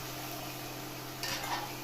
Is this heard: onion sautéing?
yes